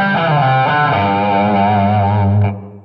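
A distorted electric guitar plays a sustained, wavering solo phrase with heavy overdrive, loud and alone, cutting off abruptly near the end.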